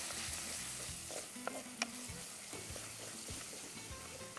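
Ground spices such as coriander powder sizzle steadily in oil in a frying pan while a spoon scrapes and stirs through them, with repeated close clinks of the utensil against the pan over a constant crackling fry.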